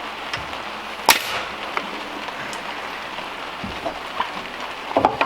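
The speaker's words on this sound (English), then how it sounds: "You know the worst part about the rain is?" Steady rain patters on surfaces, with scattered louder drips and a sharp tap near the start, no talking.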